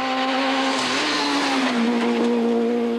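A rally car driven flat out on a special stage, a loud sustained engine howl with slight pitch shifts through gear changes and a hint of tyre noise, no voices.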